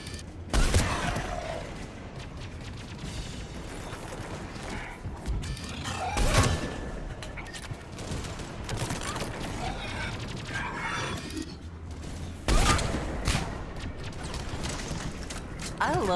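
Sniper rifle shots in the video game Mass Effect 3, a few loud spaced cracks standing out from ongoing mechanical game noise and clatter, with a voice talking in between.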